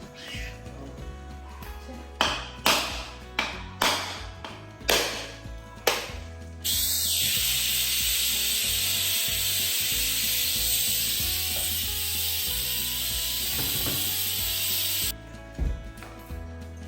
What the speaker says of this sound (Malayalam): ഞാൻ പുട്ടിലേക്കുള്ള തേങ്ങ ഒന്ന് ചിരകിയെടുക്കട്ടെ